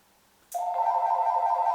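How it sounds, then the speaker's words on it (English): A mobile phone rings suddenly indoors with a loud, sustained electronic tone that holds steadily after its sharp start. "Excuse my phone."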